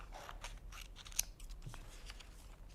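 Scissors snip through white paper while a small rectangle is cut out for a paper monster's teeth, giving one sharp, close, crisp cut over a quiet room.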